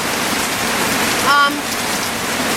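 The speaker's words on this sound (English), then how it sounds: "as you can see, it started to rain." Steady rain pours down as a dense, loud hiss that fills the whole stretch evenly, with a brief faint tonal chirp rising over it midway.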